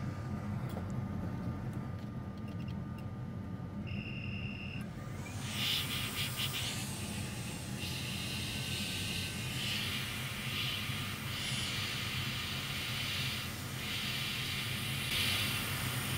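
A hot air rework station blows through a narrow nozzle while working on a PS5 board, giving a steady, loud airy hiss throughout that swells and shifts slightly in places, with a brief high tone near the start.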